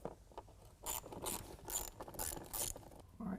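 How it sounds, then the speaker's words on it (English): An 8mm ratchet clicks in quick bursts while loosening the band clamp on the factory air tube at the airbox of a 2020 Ram 2500 6.7L Cummins diesel, close and fairly quiet, with no talking. "now we're going to use the same 8mm to loosen up this band clamp that holds the factory air tube to the"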